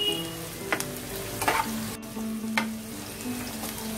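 Chopped carrots and green chillies frying in a pan for veg noodles, a steady close sizzle with a few sharp stirring scrapes, no talking.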